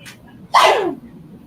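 A single sharp sneeze bursts out close by, loud and brief, with quiet room tone before and after.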